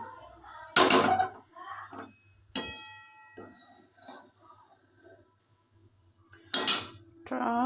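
A metal wok set down onto a lit gas stove at home, giving a sharp clank near the start and another metallic knock near the end, with quieter kitchen clatter and brief handling in between.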